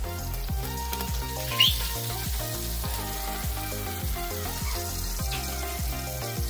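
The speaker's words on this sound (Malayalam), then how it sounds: "ഞാനിവിടെ കോക്കനട്ട് ഓയിലാണ് ഉപയോഗിക്കുന്നത് നമുക്ക് ഫിഷ് എല്ലാം ഫ്രൈ ചെയ്തെടുക്കാം" Tilapia pieces frying in coconut oil in a pan, a soft steady sizzle that sits under rhythmic, tonal background music.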